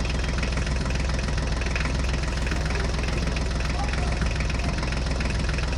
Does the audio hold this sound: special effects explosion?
no